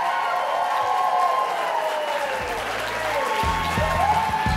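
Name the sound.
applause at a wedding celebration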